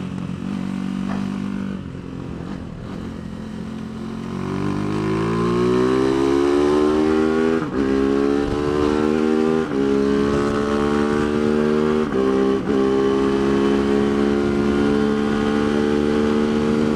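A Tianda TDR300 motorcycle engine on a race track, recorded close from the rider's position, rises from a lower drone into a loud, sustained high-revving whine that holds with slight dips as gears and throttle shift.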